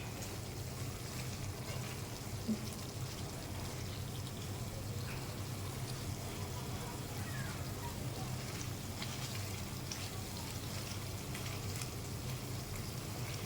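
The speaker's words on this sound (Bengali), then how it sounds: "মাছটা দিয়ে এর সাথে একটু সময় নাড়াচাড়া করে নিতে হবে" Hilsa fish frying in a pan with mustard and papaya, a steady dense sizzle and crackle holding level throughout with no other sounds.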